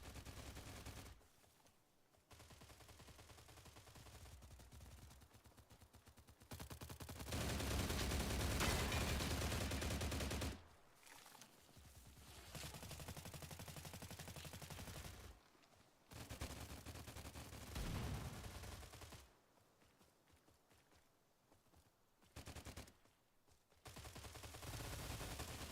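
Weapons fire in the game STALCRAFT comes in repeated loud bursts, long stretches of rapid automatic shots broken by brief silent gaps, with several guns going at once.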